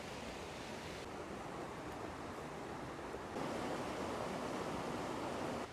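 A small stream swollen after a storm rushes in a loud, steady broadband roar of flowing water that holds constant throughout, slightly stronger toward the end, with no voices.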